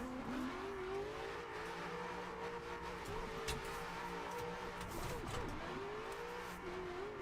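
Simulated car engine droning steadily in the Assetto Corsa racing game, with tire squeal and revving during drifting, continuous and even in level throughout.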